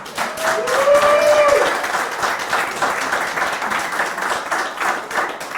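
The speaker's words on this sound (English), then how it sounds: "That's worth a clap." Applause from an audience at a Motown Museum event, a steady crowd of hands clapping throughout, fairly loud and even, with a brief whistle or cheer rising early on.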